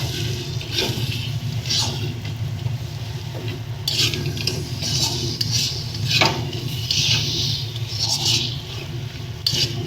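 Leafy greens tossed and stirred with spices in a metal wok, sizzling gently while a spatula scrapes and clinks against the pan in irregular strokes, close and steady.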